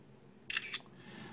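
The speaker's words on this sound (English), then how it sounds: "Let me take a picture here." A OnePlus 2 phone camera fires its shutter once: a quick, crisp double click that stands out clearly against a quiet room, with no talking.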